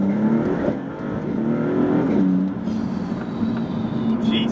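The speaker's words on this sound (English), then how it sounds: "Right, first gear pull." Maserati MC20 pulling hard in first gear on a country road, a loud, steady engine drone heard from inside the cabin with rising pitch and no break.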